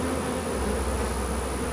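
Honey bees hum on brood frames during a hive split, making a dense, steady buzz at close range with no pauses and no voices.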